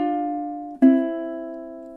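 Ukulele playing two sustained plucked notes of a lullaby phrase, the first ringing and fading, then a second pluck struck near the middle decaying slowly, close and clean, no voices.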